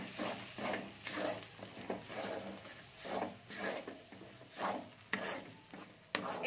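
Food seasoned with black pepper and salt being stirred in a pan, with repeated close scraping strokes in an uneven rhythm over a low sizzle and occasional sharp utensil knocks against the metal.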